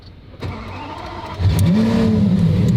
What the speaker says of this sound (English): you can start the car like that without actually pushing the fob wireless start-stop button